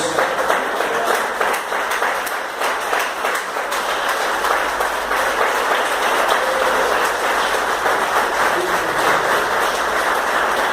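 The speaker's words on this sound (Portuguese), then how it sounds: "Vamos aplaudir o nome dele mais uma vez." Loud, sustained applause fills a church service as the congregation stands and claps in worship, a thick continuous wash of hands with faint voices mixed underneath.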